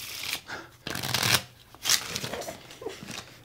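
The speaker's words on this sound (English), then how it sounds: "you can shuffle those cards" Playing cards being shuffled nearby in a few quick riffling bursts, crisp and papery, with soft handling noises between them.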